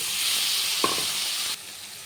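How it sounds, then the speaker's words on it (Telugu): Tomatoes fry in a pan with garlic, salt and turmeric for mutton keema curry, giving a steady bright sizzle with one brief utensil knock midway. The sizzle drops sharply near the end. No voices. "ఇదండి టమాటాలు వేసుకుంటాము."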